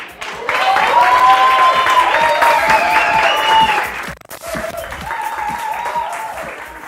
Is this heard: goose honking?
no